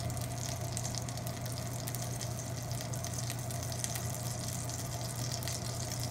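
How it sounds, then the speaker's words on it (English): Steady, dense sizzling of steak searing in a hot pan, a constant crackling hiss with a low hum underneath, no talking. "You can hear that nice sear noise."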